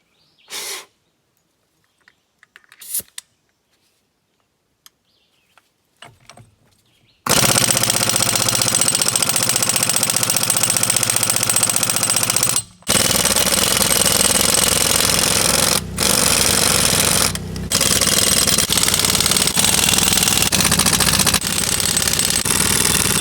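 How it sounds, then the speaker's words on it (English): Near a storage building, an impact wrench hammers loudly and continuously at wheel lug nuts for about sixteen seconds, with a few brief pauses. Several seconds of faint scattered knocks and quiet come before it, and nobody speaks. "Let's see if the impact will pop these babies off."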